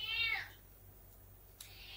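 A cat meows once up close, a rising and falling call at the very start, then fades into quiet room tone with a faint click near the end.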